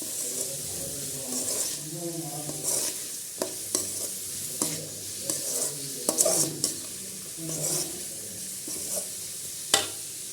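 Vegetables with green chillies sizzle in a pan while being stirred for a vegetarian macaroni pasta, soft steady frying under repeated clinks and scrapes of a spoon, no talk.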